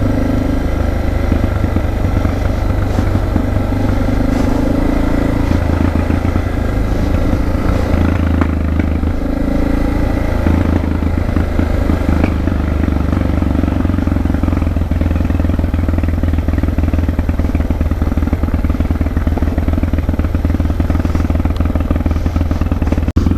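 A motorcycle engine drones steadily while riding in second gear on a mountain road toward Ouray, a loud continuous low rumble with wind noise and no pauses.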